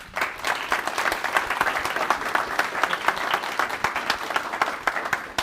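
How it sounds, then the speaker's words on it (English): An audience at a cybersecurity leadership panel event gives a round of applause: dense, steady clapping that stays at an even level for the whole stretch, with no speech over it. "why about a round of applause to them to say thank you for your time today"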